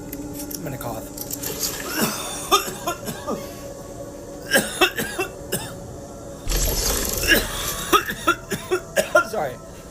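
A cough sounds from a player character in the survival game Once Human, several short rough bursts mixed with game sound effects and background noise, with a voice speaking between them.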